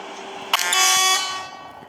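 A single car horn blast sounds for about a second, loud and close, against quiet background noise.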